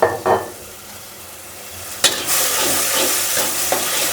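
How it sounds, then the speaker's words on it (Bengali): Spice masala fries in mustard oil while a utensil scrapes and stirs it in the pan. The loud, continuous sizzle is punctuated by a few sharp scraping knocks. "মশলাটা কষাবো"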